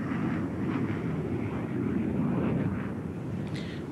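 An F-86 Sabre jet fighter gives a steady, dense roar of engine and rushing air, continuous and moderately loud without talk.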